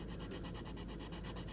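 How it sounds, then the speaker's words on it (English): Steady, close rasping of a 150-grit sanding stick rubbed back and forth on a model part in quick, even strokes, quiet and continuous. "This sanding stick is like 150 grit"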